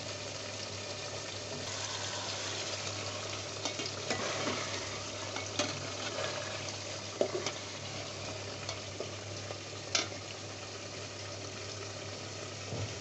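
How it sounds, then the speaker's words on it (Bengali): Beef frying in a pot as its released water cooks off, with a steady low sizzle and intermittent scraping stirs and soft clinks, fairly quiet and without talk. "গরুর মাংস থেকে যেই পানিটা বের হয়েছে এই পানিটা শুকিয়ে আসা পর্যন্ত অপেক্ষা করব আর অনবরত নাড়তে থাকব।"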